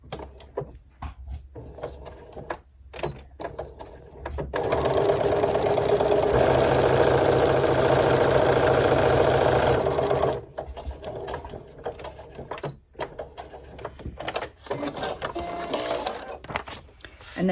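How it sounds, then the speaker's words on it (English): Sewing machine stitching a quilt block along a dotted line for a tree pattern, running as one steady, loud mechanical whir for several seconds between quieter handling noises before and after. "we're going to sew on the dotted line."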